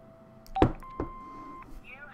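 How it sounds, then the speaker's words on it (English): An answering machine in the Broken Sword 5 adventure game gives a couple of short electronic beeps and a sustained tone amid clicks, with a voice speaking briefly around them. "Hobbs's answer phone, and he's got messages."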